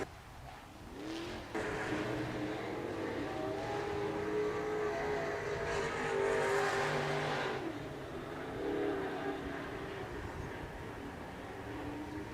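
SportMod race cars lap an oval speedway in a heat race, their engines a loud, continuous roar that swells and fades as the pack passes at a distance. The engine noise plays alone, with no talk over it.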